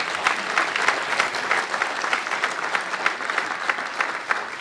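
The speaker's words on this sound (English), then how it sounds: "You can give him a round of applause for that." A crowd claps steadily through an evening awards event honoring a man of the year, the applause sustained and fairly even from start to finish with no voices breaking through.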